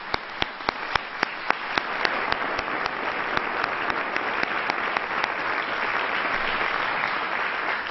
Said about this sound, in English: Let's give our mayors a round of applause.